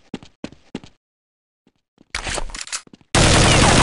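Gunfire in the Counter-Strike video game, an M4 rifle: a few quick bursts of shots early, a pause, then a dense crackle of rapid fire and a sustained loud blast at the end.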